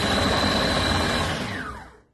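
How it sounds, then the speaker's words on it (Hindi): Electric food chopper grinding mustard greens for saag, a steady loud motor whir running throughout before winding down and cutting off at the end. "मेरे पास चॉपर है तो मैं इंशाल्लाह चॉपर से इसे भी घोट के"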